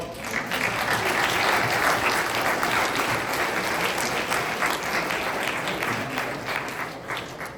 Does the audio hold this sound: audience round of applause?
yes